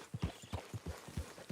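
A horse's hooves clip-clop at a steady walking pace in Red Dead Redemption 2 on PS4 Pro, with about ten crisp, evenly spaced hoofbeats heard up close.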